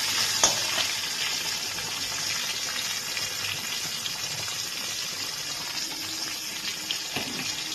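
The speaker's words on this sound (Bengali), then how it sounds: "রসুন কুচিটা দিয়ে একটু লাল করে ভেজে নিয়ে আমি এর মধ্যে কাঁচা লঙ্কাগুলোকে দিয়ে দিচ্ছি" Chopped garlic and green chillies frying in oil, a continuous bright hissing sizzle at moderate loudness with a few small pops and clinks, no voices.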